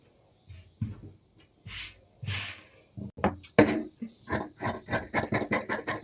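Blouse fabric is cut for tailoring, with scissors snipping through cloth: a few separate rustling cuts and slides at first, then a quick run of regular, evenly spaced crisp snips, close and fairly quiet with no talking.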